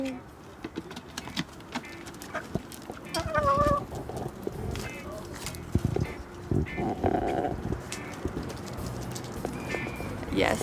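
Backyard chickens in Vancouver cluck and squawk softly nearby in a quiet outdoor space, with scattered scratching and shuffling sounds.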